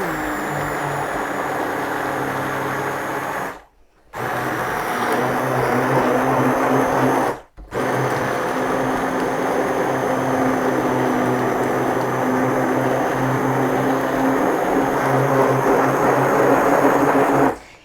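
A hand blender whizzes grains into a thick batter in a bowl with a loud, steady, close motor whine, cutting out briefly twice before running on.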